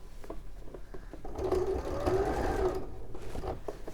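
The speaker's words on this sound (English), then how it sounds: "what I'm going to do is sew straight up until the edge" A sewing machine stitching through several fabric layers of a sashiko basket, a close mechanical whirr that rises into a steady run for about a second and a half, with light ticks and handling before and after.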